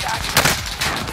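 Burst of rapid gunfire from an online shooter video game, a short loud volley with a sharp peak near the middle, heard alone without talk.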